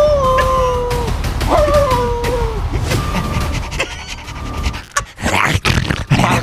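A dog pants hard and close while letting out high, drawn-out whimpering whines, followed by scuffling and knocking noises.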